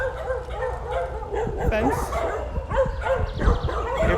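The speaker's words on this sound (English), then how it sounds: "They're guard dogs." Guard dogs near an airport fence in Guyana bark and yip in short, scattered bursts at moderate distance, mixed with someone talking and outdoor background noise.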